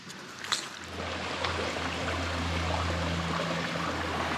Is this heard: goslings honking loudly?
no